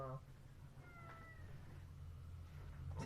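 An older pet cat meows briefly near the start of the clip, with a faint whining call that trails off, over a steady low hum.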